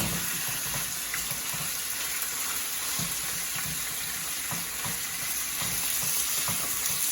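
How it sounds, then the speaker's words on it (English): Steak taco meat sizzles and fries steadily in hot oil in a pan, a loud continuous crackle with small pops, close up and without talk. "We just got some steak taco meat here with some hot oil in the pan so that it doesn't stick"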